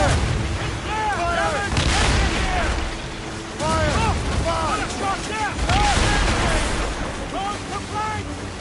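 Ship cannons boom in a naval battle in Assassin's Creed Rogue, several heavy blasts in bursts over steady ocean and mechanical rumble, with a voice shouting among the shots.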